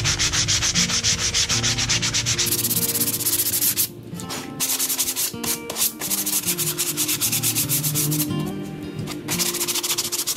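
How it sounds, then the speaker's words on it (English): Sandpaper rubbed by hand over a plastic bait board, a steady close scratching that runs continuously with brief pauses and no talking. "just using sandpaper in my hand works just fine"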